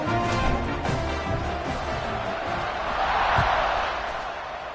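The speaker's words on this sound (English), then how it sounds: "this crowd is feeling themselves after that last drive" A football stadium crowd at a Broncos versus Bears game roars and cheers continuously during a kickoff, a dense, distant wash of voices that swells near the end.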